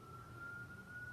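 A faint, distant siren holds one steady wailing tone for the whole second over a low background rumble.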